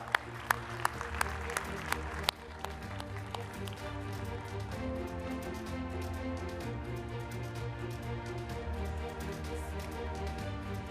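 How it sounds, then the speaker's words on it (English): Audience applause at the Republic Plenary Summit 2025 in India, a steady wash of clapping running the whole time with a few sharp claps near the start, while music plays beneath. "A round of applause, ladies and gentlemen."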